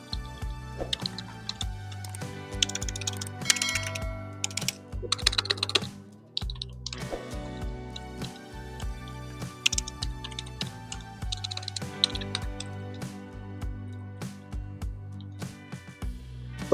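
Portronics Bubble 3.0 wireless keyboard typed on in rapid, soft, clustered key clicks, close and quiet, with a brief pause midway before typing resumes.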